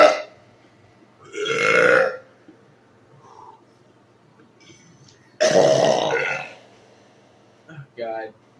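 Several loud, drawn-out burps come one after another, two long deep belches separated by quiet pauses and followed by a shorter burst.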